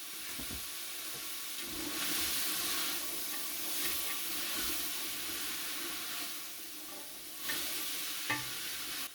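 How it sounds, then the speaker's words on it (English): Vegetables sautéing in a pot for a budget one-pot chili, a steady soft sizzle and hiss running throughout, with a faint stir or clink near the end. "So we're just going to saute these for a quick moment."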